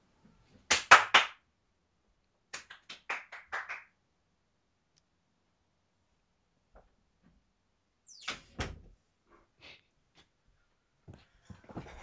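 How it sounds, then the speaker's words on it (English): Sharp hand claps in short irregular clusters, close and loud at first, then quieter scattered claps and taps with pauses of silence. "Hope the clapping wasn't too loud."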